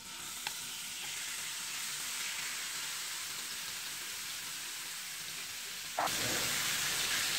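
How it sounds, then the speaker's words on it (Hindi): Marinated chicken sizzles steadily in hot oil in a pan, a dense, continuous frying hiss that swells louder near the end, with no talking over it. "ऑयल गर्म हो चुका है। अब मैं इसमें ये मैरिनेटेड चिकन ऐड कर रही हूँ।"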